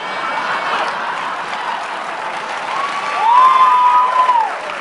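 Audience at a political talk by Governor Christie breaks into applause and cheering, a broad steady wash of clapping that swells briefly near the end as a voice rises over it.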